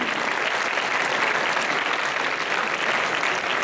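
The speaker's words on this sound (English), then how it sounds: "I request everyone to give a round of applause for Jayant Santosh" Sustained applause from an audience at a school club program honouring a newly named house vice captain, a dense, even clapping that fills the whole moment without any voices.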